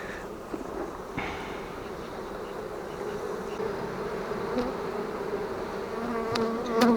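Honey bees buzzing at the hive while it is being readied for autumn, a dense continuous hum of many insects nearby, with occasional individual bees flying close past.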